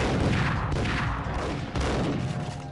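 Dense in-game gunfire from the Max Payne shooter, a sustained fusillade of overlapping shots with booming low-end blasts that runs for nearly three seconds, loud and close.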